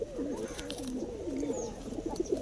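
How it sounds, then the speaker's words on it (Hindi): A female Tambdi pigeon from Nagpur pigeon-flying circles coos softly in repeated warbling rolls, close but quiet, over faint background hiss. "ये तांबड़ी कबूतरी है, बहुत फेमस कबूतरी है"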